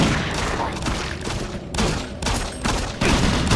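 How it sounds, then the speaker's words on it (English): Rapid gunfire from a machine gun in the video game Doom 3, played in Xbox co-op, crackling in dense continuous bursts that pause briefly and resume, loud and close, with no one talking. "I got a machine gun."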